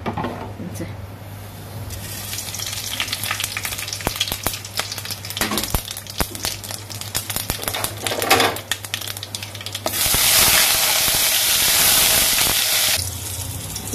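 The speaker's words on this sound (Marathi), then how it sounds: "तेल घाता आनी सांसवां आनी करी लिव्स घाता आनी फोंड मारता" Mustard seeds and curry leaves tempering in hot oil in a kadai for a white bean curry, a loud dense crackle and spatter with sharp pops throughout, rising to a harsh steady hiss toward the end.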